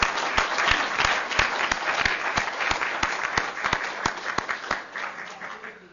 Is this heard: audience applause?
yes